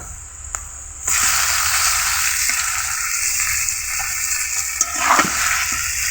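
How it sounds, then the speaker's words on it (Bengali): Pabda fish are added to a spice paste of dry chilli powder in a pan, triggering a sudden loud sizzle that continues steadily, with a few light stirring scrapes near the end. "এখন দেওয়া হচ্ছে পাবদা মাছগুলো"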